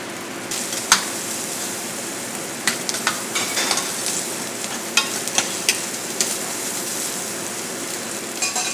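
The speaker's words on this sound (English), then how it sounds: "This is just a little bit of oil to get this started, so I'm going to render the bacon out just a little bit" House-made bacon sizzles and crackles as it renders in a little oil in a pan, a steady fry with scattered sharp pops and a few utensil clicks, close and alone.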